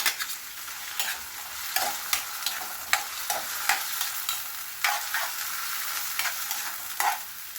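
Onion, garlic and tomato sautéing in a pan while being stirred, a soft sizzle punctuated by regular scraping strokes of a spatula, close and alone.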